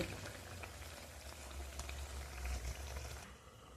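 Potatoes simmer under a lid in a pan for a homestyle aloo begun niramish curry, giving a steady low bubbling hiss with faint crackle, close and continuous with no talking.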